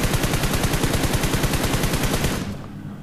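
Rapid automatic fire from an M4 and M249 in a mobile battle-royale game comes as a fast, even string of loud close shots that stops abruptly and leaves a fading tail.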